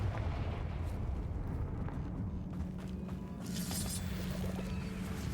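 The Confringo fire spell in Hogwarts Legacy bursts into a rumbling, booming blast, followed by a crackling hiss in the second half, over a low continuous game background.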